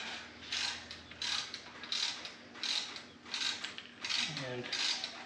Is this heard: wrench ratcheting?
yes